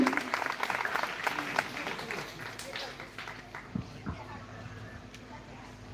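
Applause for donors at a school ceremony on Independence Day, a crowd clapping that is lively at first and then thins out, with a voice speaking faintly over it.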